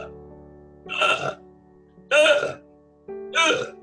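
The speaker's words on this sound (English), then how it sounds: "As I burp, which means I am helping you guys to clear." A person burps three times in a row, each loud, close vocal belch separated by short pauses, over a faint steady hum.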